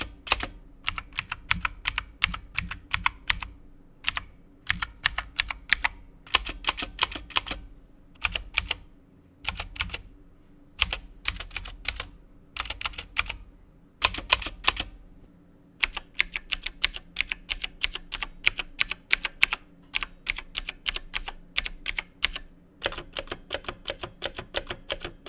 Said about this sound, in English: next I want to talk about the clickiness of the keyboard